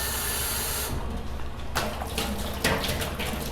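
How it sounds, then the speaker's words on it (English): Hot water pours from a tap into a bottle for an air pressure demonstration, a loud, steady hissing rush that briefly drops, then resumes with splashy bursts. "I'm going to fill it more with hot water."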